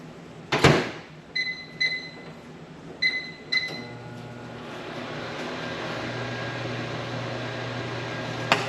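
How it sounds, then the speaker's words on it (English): A microwave oven heats a cup of water: a door thud, a few short electronic beeps, then the steady low hum of the oven running, close and continuous. "put it in the microwave for about a minute and a half"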